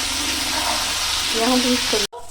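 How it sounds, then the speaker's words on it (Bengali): Cauliflower with spring onions sizzles and fries in an iron wok, a steady close hiss with faint stirring scrapes, cut off abruptly near the end. "দিয়ে একটু নেড়ে নিচ্ছি আবারও ফুলকপিটা সুন্দর করে"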